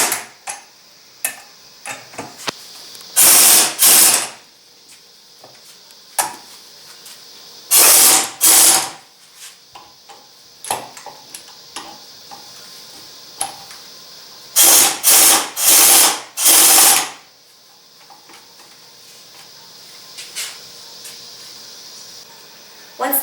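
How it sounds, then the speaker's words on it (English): Air impact wrench tightening bolts on a Dodge truck power steering pump, several loud rattling bursts of a few seconds each, close by, separated by quieter clicks and handling noises. "Next, tighten the bolts using an air impact."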